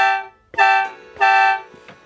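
A khaen, the Lao bamboo mouth organ, sounds the note sol in two sustained, reedy blasts with a short break between them. It plays close and loud with no voice.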